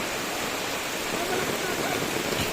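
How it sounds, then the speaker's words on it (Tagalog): Heavy rain pours down beside a swollen, rising river, a dense, loud, continuous rushing hiss with no pauses. "napakalakas po ng ulan"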